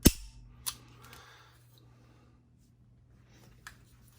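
Slide of a Smith & Wesson M&P 22 pistol snapping back and locking open with the magazine in place, a sharp close metallic clack followed by two softer clicks on a quiet tabletop.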